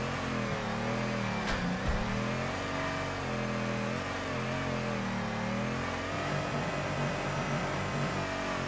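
A Nissan S15 drift car in the Torque Drift racing game, its engine droning and revving steadily with shifting pitch, loud and continuous with no talking.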